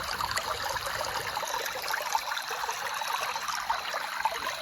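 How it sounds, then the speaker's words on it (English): Water splashes and trickles as a hand pushes it aside in a shallow forest stream, a continuous close, soft wash with no voices. "Here, let me move the water out of the way."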